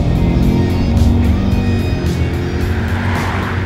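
A 2025 Subaru Outback XT with the 2.4 liter turbocharged Boxer 4 engine accelerating, a loud, steady engine roar that holds for several seconds with a slight rise and fall.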